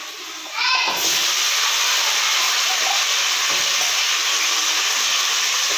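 Small onions, added to a pan after garlic for a fish gravy, sizzle and crackle loudly and steadily in hot oil, a dense hiss filling the scene after a brief quieter start.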